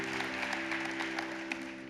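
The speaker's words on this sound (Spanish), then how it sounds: "Denle un aplauso al Señor por esa palabra que nos dio." A church congregation applauds, the clapping faint and diffuse over a steady tonal hum that sounds like a sustained organ or keyboard chord, over in about two seconds.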